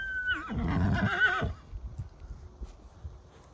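A stallion gives one loud, close whinny with a wavering, descending pitch, then quiet shuffling and faint background noise follow.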